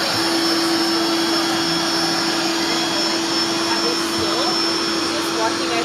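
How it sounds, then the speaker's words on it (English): An electric pump inflates an air mattress at a dark campsite, giving a loud, steady, close droning whine that holds without a break from start to end. "Corey's about to blow up his air mattress."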